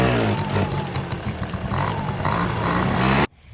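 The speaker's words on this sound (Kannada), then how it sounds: "ಇನ್ನೇನು ಕಿಕ್ಕರ್ ಸ್ಟಾರ್ಟ್ ಮಾಡೋಣ ಅಂತ ನೋಡಿದ್ರೆ ಸ್ಟಾರ್ಟ್ ಆಗೇ ಹೋಯಿತು" Kinetic Honda ZX two-stroke scooter engine running after starting, a loud, buzzy, slightly uneven rattle that cuts off abruptly near the end.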